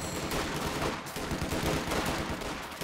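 Machine gun fire in the video game Company of Heroes 2: a dense, rapid rattle of shots running continuously and fairly loud, with no talk over it.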